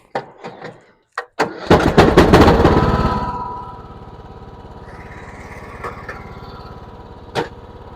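A lawn core aerator engine coughs through a few short pulls, catches, roars briefly, then settles into a steady idle rumble up close.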